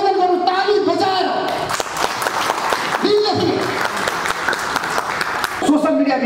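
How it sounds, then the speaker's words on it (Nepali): An audience applauds to honour Raju Bhatt at a public gathering, sustained clapping filling the whole stretch with a dense, steady texture, rising briefly at moments and mixed with crowd voices. "तपाईँहरू सबैले राजु भट्टजीलाई अभिनन्दन गर्नु ताली बजाएर"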